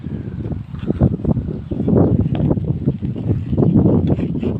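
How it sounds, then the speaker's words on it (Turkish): Strong wind buffets the microphone during a bike ride, a steady loud low rumble with gusting surges throughout and no clear talk. "Çok rüzgar çıktı"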